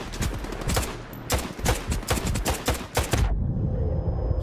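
Rapid bursts of enemy gunfire and a grenade blast in a video game, loud and close, sharp clustered shots stuttering in quick volleys before the shooting cuts off into a lingering low rumble.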